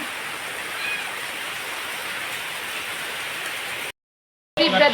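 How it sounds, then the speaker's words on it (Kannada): Rain falls in a steady hiss for several seconds, then cuts out briefly before returning loudly. "ಮಳೆ ಬರ್ತಾ ಉಂಟು"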